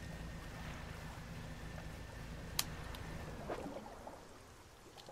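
An upgraded new engine drives a fishing boat in the video game Dredge, giving a steady, loud broadband rumble with water wash throughout and one sharp click partway through, fading slightly toward the end.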